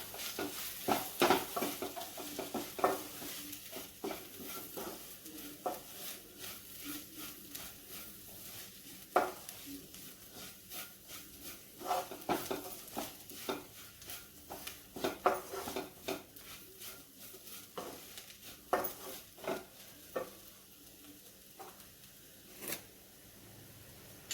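Turmeric powder being roasted in a hot pan, with a spoon repeatedly stirring and scraping the metal in irregular clicks over a soft, steady sizzle, close and moderately quiet throughout.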